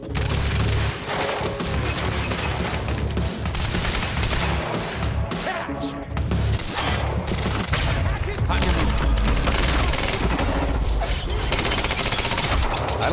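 Gunfire in the action video game Quantum Break, dense bursts of automatic shots with booming impacts crowding the whole stretch, loud and close, brief lulls between volleys, a voice talking underneath.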